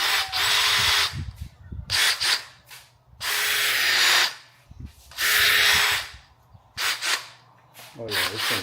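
A DeWalt 20-volt Max brushless cordless drill with a half-inch keyless chuck, model DCD793D1, runs in several close, loud bursts of whirring motor noise at a low speed setting, each about a second long, with brief pauses and soft handling noise between.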